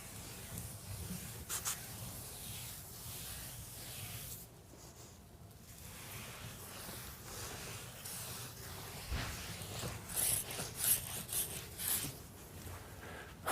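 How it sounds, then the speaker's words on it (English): A damp microfiber towel rubs grout haze off a tiled floor, giving soft, quiet, uneven wiping and scrubbing strokes that come in bursts with short pauses between them. "remove the last haze with a damp microfiber towel"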